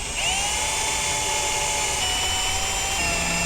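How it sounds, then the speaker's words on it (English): A drill bores a hole through a stack of four steel plates in a workshop, a steady high whine with a continuous grinding hum, close and loud, no talking. "A little harder to drill by hitting the table."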